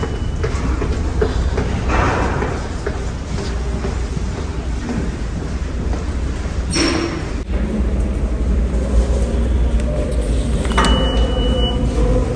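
A metro train runs steadily and loudly through a station or tunnel in New York, with a continuous rumble and rattling wheels, then a sharp squeal near the end.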